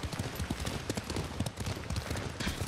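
Horse hooves clip-clopping at a steady riding pace in the samurai video game Ghost of Tsushima, rhythmic thuds close and prominent over an outdoor ambience bed.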